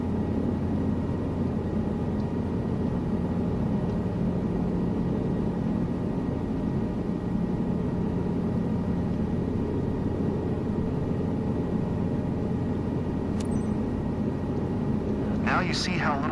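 A helicopter flown in a video game flight simulator gives a steady, close, droning hum of engine and rotor that holds evenly throughout, with a short burst of higher noise near the end.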